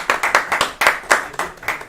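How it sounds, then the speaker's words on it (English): A small group of people clapping, a quick run of about eight sharp, fairly close claps with brief decays between them and no talk. "Let's all clap for Peter."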